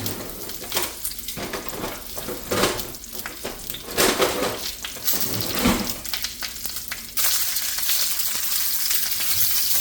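Tomatillos, Roma tomatoes, a jalapeno, half an onion, seeded guajillo peppers and garlic cloves hit hot oil in a pan, bursting into loud, continuous sizzling and frying with occasional clinks and stirring scrapes.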